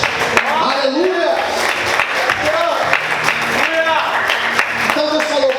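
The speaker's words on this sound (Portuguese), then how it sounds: "Dá glória a Deus e aplauda ao Senhor essa noite." A church congregation applauds during an evening service, with scattered clapping and lively, excited crowd voices rising and falling beneath it.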